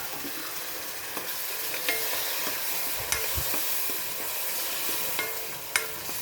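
Homemade tomato paste, made from tomatoes cooked down with a little sugar, sautés in a pan for macaroni. It gives a steady low sizzle with a few soft stirring scrapes and small clicks, and nobody speaks.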